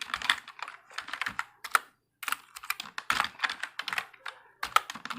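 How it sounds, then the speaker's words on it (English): Typing on a computer keyboard in quick bursts of close, crisp key clicks separated by short pauses, with no talking. "suppose that we are going to type here the name of the month"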